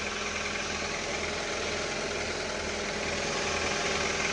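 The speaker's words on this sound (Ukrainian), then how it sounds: "Холодний запуск." A 2008 Hyundai Accent with a 1.4 petrol engine idles just after a cold start, a steady, even mechanical hum with constant vibration and no talking.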